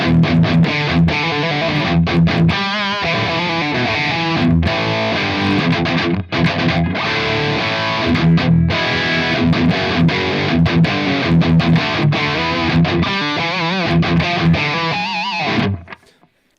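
A heavily distorted, high-gain electric guitar through a Fractal Audio modeler with ML Legends cabinets plays chugging metal riffs and chords with a thick, saturated tone, loud and continuous before cutting off near the end.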